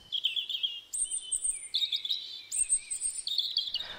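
A European robin sings high, thin whistled and trilling phrases in quick succession, clear and fairly close, with no other sounds around it.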